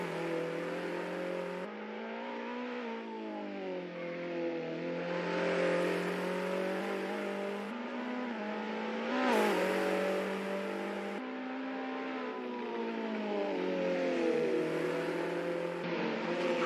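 Simulated race car engines from an Assetto Corsa NZ Superlap league race whine steadily, pitch sweeping up through the gears with abrupt drops at each shift, moderately loud with no voices.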